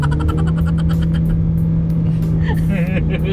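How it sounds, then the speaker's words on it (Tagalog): Haval Jolion HEV hybrid SUV launching from a standstill in sports mode, a loud steady drivetrain rumble and drone rising as it accelerates, with cabin noise throughout. "pwede rin natin tong i-launch. So ilagay natin sa sports mode"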